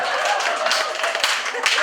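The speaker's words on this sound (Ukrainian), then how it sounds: "Під оплески файні." Guests at a wedding party clap together during a game for the newlyweds. The steady, moderately loud clapping runs the whole way under a speaking voice.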